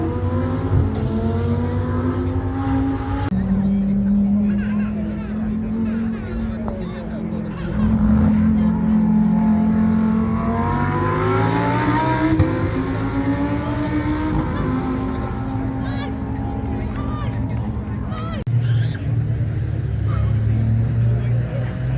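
An F1 Diva race car drives past at the Brooklands Museum Motorsports Day, its engine droning and rising in pitch as it nears and then falling away, with crowd chatter and other traffic underneath.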